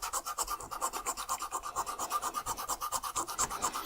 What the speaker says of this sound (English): Never sanding for too long in one spot.